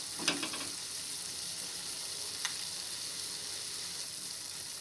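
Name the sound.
tomato chutney with tamarind cooking in a pan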